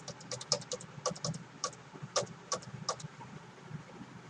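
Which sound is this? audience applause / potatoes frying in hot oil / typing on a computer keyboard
typing on a computer keyboard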